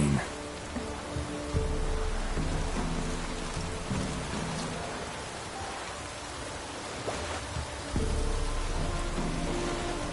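Steady rainfall in the Witcher 3 video game world near Fyke Isle, a continuous broadband hiss of rain on surfaces with low music-like tones underneath, fairly constant in level throughout.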